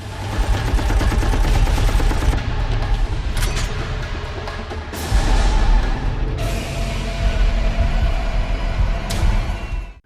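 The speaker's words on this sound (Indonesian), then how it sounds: "Mul dan para anak buahnya langsung menyerang Gordon dan tim hingga aksi baku tembak pun terjadi" Heavy gunfire from a brutal shootout in an action film about a crew of robbers, sustained loud bursts of shots with booming low impacts running nearly the whole time, no talk.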